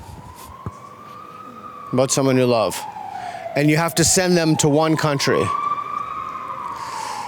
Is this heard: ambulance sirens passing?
yes